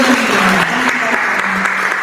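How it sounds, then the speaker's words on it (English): An audience at a PR and luxury-brand marketing panel event gives a round of applause, a dense loud burst of clapping filling the whole brief moment, with a voice faintly audible over it. "let's give a round of applause for Ms. Damali Hill."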